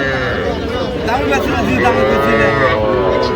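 A young bull calf at a cattle market in Faridpur moos loudly and close, drawn-out calls over the bustle, with people talking around it.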